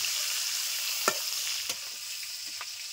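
Prawns frying in a pan, a steady close sizzle with a few soft stirring clinks and scrapes, no voices.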